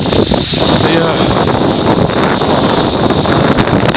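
Strong wind on the Exe estuary buffeting the microphone during a canoe trip, a loud continuous roar with gusty rumble and faint water sounds.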